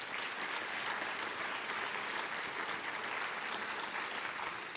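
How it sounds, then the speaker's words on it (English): An audience claps steadily, a dense wash of applause that holds at an even level throughout. "So do give him a round of applause."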